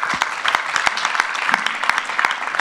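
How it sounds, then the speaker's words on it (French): Loud audience applause for speakers at a conference, dense clapping with a few sharp, close individual claps standing out against the crowd. "Merci d'applaudir nos intervenants."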